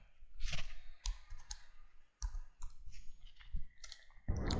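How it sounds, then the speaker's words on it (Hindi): Distinct clicks and taps of a computer keyboard as a short name is typed in a spreadsheet, spaced irregularly and close up, ending in a louder thump. "यहाँ पे मैं राज टाइप कर देता हूँ"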